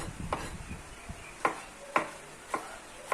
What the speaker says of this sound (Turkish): Bu şekilde hepsini doğrayarak hazırlayalım.